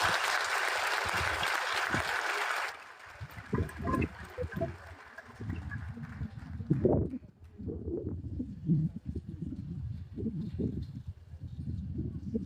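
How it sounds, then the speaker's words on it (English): Applause from a graduation audience at Rusea's High School honouring the guest speaker, heard as a dense, broad clapping wash for the first few seconds before it fades out and a voice comes over a public address system. "please join me in giving one final, resounding round of applause for our distinguished guest speaker"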